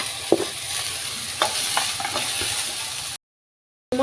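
Capsicum, onion and other vegetables fry in ghee in a pan while being stirred, a steady low sizzle with a few sharp spatula scrapes, close, followed by a brief silent gap.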